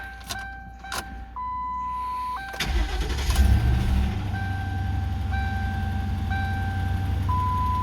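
A car engine cranks and fires after a part replacement for an emissions code, with key jingles and dashboard chimes first, then the engine settles into a steady close idle as warning tones keep beeping.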